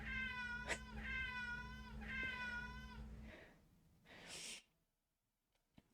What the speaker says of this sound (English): Eddie's my cat.